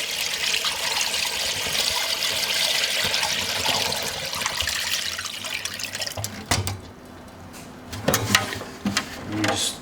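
Buttermilk pancake water ice mix pours into the mouth of a machine, a steady liquid rush and splash that tapers into sporadic glugs and drips toward the end, close and alone.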